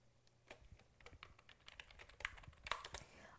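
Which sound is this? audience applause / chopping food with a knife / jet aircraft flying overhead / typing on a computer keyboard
typing on a computer keyboard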